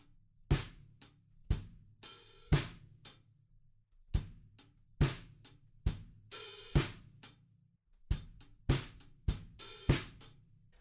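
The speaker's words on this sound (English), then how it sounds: "we've just got a tiny little hi-hat sizzle on the end of 3." A drum groove with kick, snare and closed hi-hat plays, with a short open hi-hat sizzle falling at the end of beat three in each bar. The hits are crisp, close and regular, and no one speaks.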